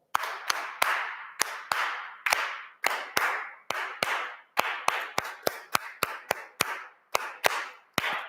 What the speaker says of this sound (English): So, shall we just clap this notation? Just clap the rhythm.